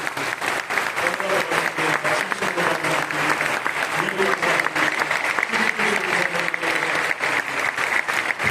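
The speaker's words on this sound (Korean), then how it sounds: "한 번 더 우리 장로님들께 감사의 박수 한번 드리겠습니다." Steady, dense applause from a church audience thanking the elders at a ceremony for a donation toward publishing a standard commentary, with faint voices mixed in throughout.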